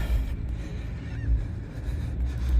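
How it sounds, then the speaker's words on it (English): Faint seagull calls come from a distance near the Atlantic coast in Vineland, New Jersey, over steady low wind and rumbling background noise. "seagull friends, you're gonna hear those because we're near the Atlantic Ocean"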